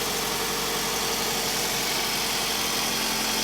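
A 2004 Toyota RAV4 engine idling while warming up after a thermostat replacement, a steady, even hum with constant low vibration and no talk.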